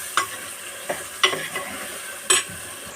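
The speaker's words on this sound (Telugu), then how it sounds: "నేను ముల్లంగి వేసుకుంటున్నానండి." Radish pieces tossed into a pan of cooking tomatoes and onions and stirred, with a handful of sharp spoon scrapes and clacks over a faint low sizzle, close and without speech.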